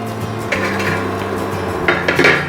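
Roasted drumstick leaves scraped from a metal pan onto a plate, with clinks and scrapes of utensil on metal over a faint lingering hiss.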